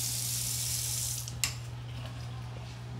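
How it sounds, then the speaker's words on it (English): Water runs steadily from a wall-mounted faucet over a bathroom vanity, a continuous hissing stream with a low electrical hum beneath and one brief splash or knock partway through. "And check out this wall installed faucet."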